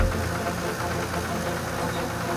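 A tractor engine drives through ponds, giving a steady, loud low rumble with knocking and vibration that holds without a break for the whole stretch.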